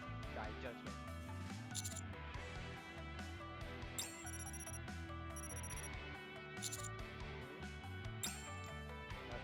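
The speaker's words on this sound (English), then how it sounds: "My phone abruptly starts ringing, startling me." Phone ringing in the video game Nikke, repeated high electronic rings over a dense musical score, fairly faint and mixed under voiced dialogue.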